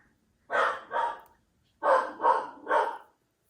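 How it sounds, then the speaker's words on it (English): A puppy barks close by, two sharp barks, a short pause, then three more in quick succession. "Oh, sorry about the barking."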